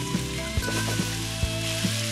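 Shrimp sautéing in a pan for a ridge gourd and potato curry, a constant loud sizzle with soft periodic knocks of a spatula stirring against the pan.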